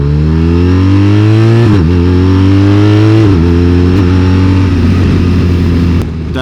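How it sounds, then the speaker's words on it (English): A 2021 BMW R1250RT motorcycle engine with an Akrapovic exhaust revs loudly and continuously up close, rising in pitch, dipping as it shifts, then climbing again with a deep, throaty exhaust roar. "That Akrapovic exhaust really makes a difference here. That is one beautiful sound."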